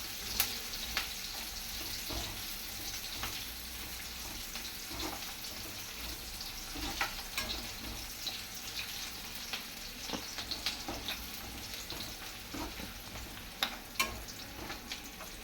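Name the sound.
onion sautéing in a pan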